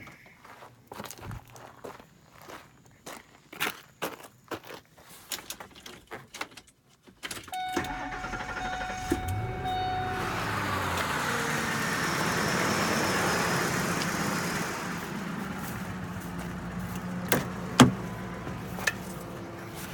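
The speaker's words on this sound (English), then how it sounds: "That's just the Expedition running." A Ford Expedition's engine starts up partway through after scattered footsteps and clicks, then idles steadily as a low, continuous rumble, with a few sharp knocks near the end.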